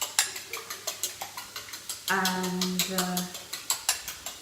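Free-range egg whisked in a bowl with a fork: quick, steady rhythmic clinks and scrapes, close and fairly quiet, with a brief spoken word and a short tonal hum partway through.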